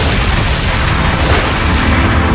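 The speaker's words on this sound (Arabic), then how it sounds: "هنا صوت رصاص." Rapid gunfire shots crack through a loud, dense wall of noise, with several sharper reports standing out from a constant rumbling roar.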